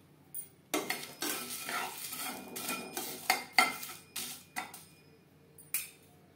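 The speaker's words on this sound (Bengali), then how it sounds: "মশলাগুলো রোস্ট করব লো ফ্লেমে" Whole spices dry roast in a hot kadai over a low flame: a spoon scrapes and stirs against the metal in scattered bursts, with light rattling and clinks between quiet pauses, close and fairly soft.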